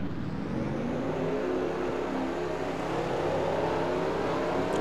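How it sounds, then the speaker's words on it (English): Racing-game stock cars roll off together at Las Vegas, a dense, steady engine roar with rising whine as the pack accelerates, loud and continuous with no talk. "So let's get the cars rolling off here."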